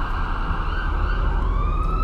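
Ambulance siren from an ambulance mod in Euro Truck Simulator 2, wailing continuously and loudly over a low engine rumble, with a slowly rising and falling tone throughout.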